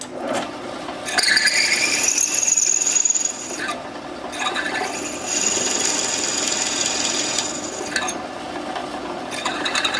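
A drill press turning slowly bores into an AK rifle barrel with cutting fluid, giving a steady grinding, rasping cut with whining bursts as the bit bites, pausing briefly between passes, close and fairly loud with no talk.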